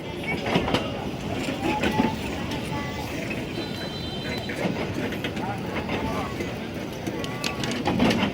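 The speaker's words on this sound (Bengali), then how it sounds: "ট্রেন যাইতাছে গা তার যাত্রী লইয়া" A moving passenger train rumbles steadily with a dense, even roar and faint clattering throughout, while voices are heard over it.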